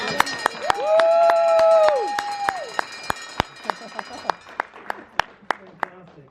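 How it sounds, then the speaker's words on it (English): At a company fireside chat, a bell rings out with a sustained tone to mark a patient starting treatment, followed by scattered, distinct hand claps from a small audience while voices carry underneath. "Let's give a round of applause."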